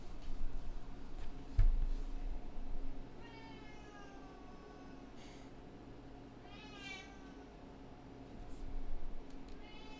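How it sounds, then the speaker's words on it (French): A cat meows several times at moderate distance over a faint background hum, with drawn-out rising cries spaced a few seconds apart and a brief thump early on. "Désolé si le chat miaule un peu."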